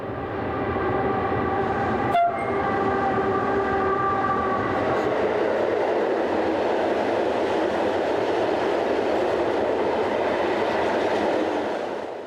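SNCB electric locomotives 1337 and 1303 haul a train past, with a loud horn blast near the start followed by a sustained heavy roar and rumble of passing wagons that stays strong to the end.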